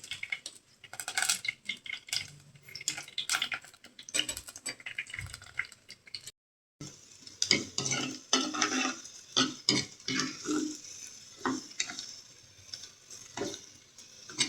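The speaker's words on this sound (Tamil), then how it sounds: "வடகம் பொரியுது பொரிஞ்சதும் இந்த வெங்காயத்தை போட்டுக்கிறோம்" Vadagam frying in oil as tempering for an egg dal dosa gravy, with quiet crackling and popping, clinks of a spoon against the pan, and a brief silent gap partway through, with no talk.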